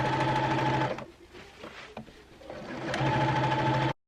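A sewing machine understitches a dress neckline facing in two fast, humming bursts of stitching, separated by a brief pause with small handling noises.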